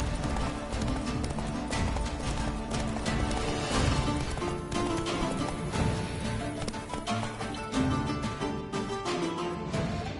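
Horse galloping in The Witcher 3: Wild Hunt during a race, steady rhythmic hoofbeats clip-clopping continuously under music and game ambience.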